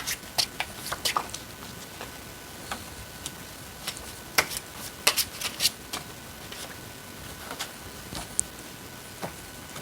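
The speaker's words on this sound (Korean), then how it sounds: "카드 뽑아보도록 할게요" Tarot cards being shuffled and drawn, a soft stream of close crisp card riffles and light taps with scattered louder flicks, steady and quiet with no talking.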